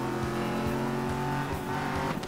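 A racing car engine in Need for Speed Most Wanted (2012) gives a continuous loud, close roar with a steady high-pitched drone, as if the car is running at high revs.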